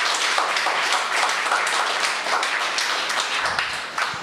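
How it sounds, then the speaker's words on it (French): A church congregation in Guéret applauds children who brought back a cup, a continuous crowd of hands clapping at moderate level, fairly even and sustained, fading slightly toward the end. "donc on peut vraiment les applaudir"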